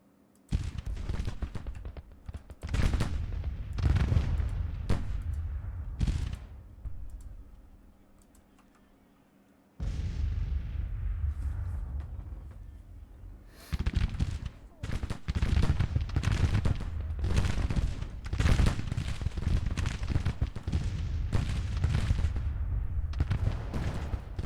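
Civil War battle in the Grand Tactician strategy game, with repeated volleys of musket fire and booming artillery in irregular bursts, loud and dense, broken by a brief lull midway.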